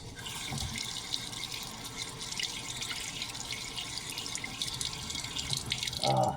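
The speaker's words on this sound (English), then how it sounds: "Rinse my hand off." A hand is rinsed under a running kitchen tap, with water gushing and splashing into the sink steadily and close for several seconds, swelling slightly louder at the end.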